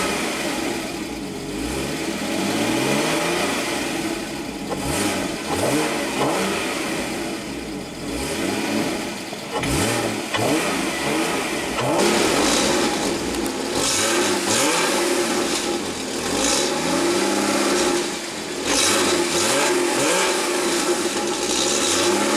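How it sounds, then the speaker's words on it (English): A 2015 Porsche Cayman's 2.7 L flat-six engine revved repeatedly from idle, rising and falling in loud, close throttle blips over a steady running drone, with no speech. "Love the way that flat six sounds."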